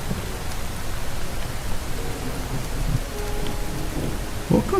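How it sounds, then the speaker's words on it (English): Steady rain with low rumbling thunder from a lightning strike in Minecraft, a continuous wash of noise throughout with a few faint game blips near the end. "What got hit by the lightning bolt?"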